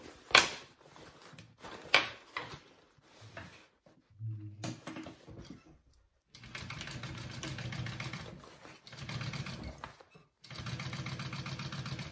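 A sewing machine stitching a sling bag, running in a few bursts: brief starts, then two steady whirring runs of a few seconds each, separated by pauses, at moderate volume and with no talking.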